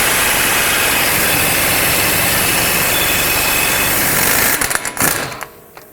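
Power tool spinning a 32mm socket to remove the axle nut on a 2007-2010 Chrysler Sebring during a CV axle replacement, a loud continuous whir and rattle that stops near the end with a few sharp clatters.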